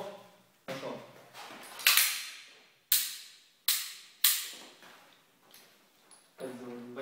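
Pistol shots fired during handgun training for staff at a shooting range: about five sharp reports spaced roughly a second apart, each with a ringing decay, with voices speaking before and after.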